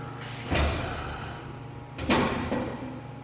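A Vacuum Atmospheres Nexus One glovebox door closes in two distinct thuds about one and a half seconds apart, each a sharp nearby knock with a short ringing tail over a steady equipment hum.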